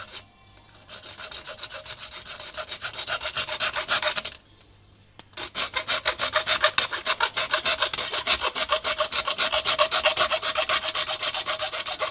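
Rapid back-and-forth strokes of a hand saw rasp through wood, close and loud, pausing briefly before resuming at a steady rhythm, during a home water pump relocation job.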